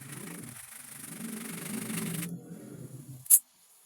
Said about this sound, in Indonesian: diamplas atau diratakan supaya rapih permukaannya